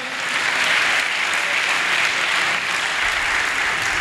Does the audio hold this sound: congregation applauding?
yes